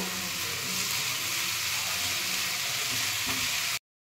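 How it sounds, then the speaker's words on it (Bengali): A vegetable mixture is stirred in a hot pan, giving a steady loud sizzle and frying hiss with soft scraping of the spoon, continuous and close until it cuts off abruptly. "এবার আমি ভালো করে একটু নাড়াচাড়া করে নেব।"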